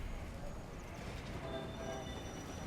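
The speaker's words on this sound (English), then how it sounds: "Train's going to turn about." Steady rumbling train noise from the RAILGRADE video game as a train turns around on the track, a continuous close mechanical roll with faint squealing tones and no pauses.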